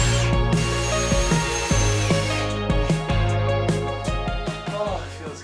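A power drill drives two screws into wood, its motor whining up and pulsing in repeated bursts with ratcheting stutters, loud and close, continuing for several seconds with no talk over it.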